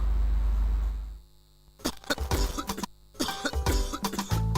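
A man coughs several times in harsh, close bursts, separated by short pauses, with a low hum beneath at the start, in a radio advert.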